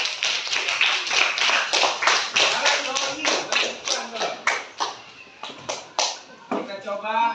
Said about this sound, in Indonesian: ini boleh tepuk tangan untuk Mirja